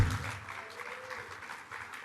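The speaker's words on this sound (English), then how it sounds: "They're clapping for you" Audience at a health forum clapping for a speaker's introduction, a soft, somewhat distant patter that is strongest at the start and thins out afterward.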